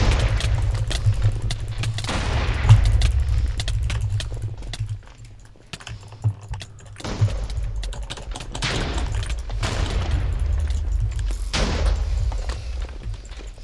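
Fireballs fired repeatedly in a Minecraft Brawl Arena match, coming as a dense run of bursty whooshes and impacts over a steady low rumble, with brief quieter gaps between volleys.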